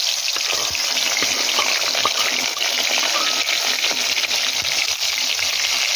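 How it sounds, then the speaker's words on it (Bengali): Tomato frying in hot oil, a steady loud sizzle with crackling spatter throughout, close and unbroken, with no voices. "তেলটা গরম হয়ে গেছে, এবার টমেটোটা দিয়ে দেবো।"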